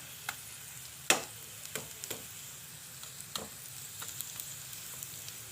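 Crispy potato slices frying in oil in a pan, with a quiet, steady sizzle broken by scattered sharp pops and crackles, close and without any talking.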